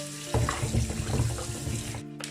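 Tap water runs steadily and close into a kitchen sink as fish are rinsed for homemade fermented fish paste in a Thai home kitchen. The splashing gurgle holds loud and continuous for a couple of seconds.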